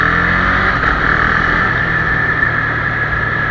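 Motorcycle engine accelerating through a gear change without the clutch, a loud steady close drone with a strong mid-range tone that holds level with slight wavering, no voices.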